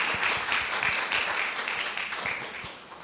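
Sustained applause from an audience greeting speaker Patricia at a public library reading event, a steady even patter of many hands that thins slightly toward the end.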